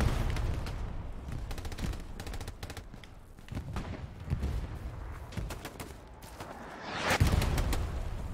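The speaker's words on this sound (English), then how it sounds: "Oh yeah, no, it's a bombing raid." Bombing raid in the Hell Let Loose war game: rumbling explosions and dense rattling gunfire roll on continuously, with a heavy, louder blast near the end.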